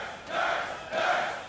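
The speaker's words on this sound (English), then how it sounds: "Sounds like Curse do have the local crowd supporting them." A local crowd at an LCS League of Legends match roars for Curse in two swelling waves, a broad distant cheer from a large arena with no clear talk on top.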